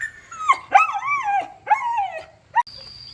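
A female dog barks and yips in short bursts, several sharp, close calls with whimpery tails, then a brief high tone at the end.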